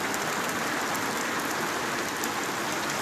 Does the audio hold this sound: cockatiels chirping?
no